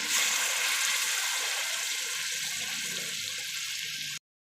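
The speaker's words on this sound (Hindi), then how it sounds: "पानी डालूंगी।" Water poured steadily into a cooking pot while making malai chana, a continuous bright hissing splash lasting about four seconds before stopping abruptly.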